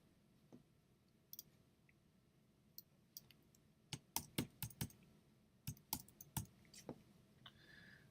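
A password is typed on a computer keyboard: faint, sparse key clicks at first, then a quicker cluster of sharp taps, close and quiet with no talking.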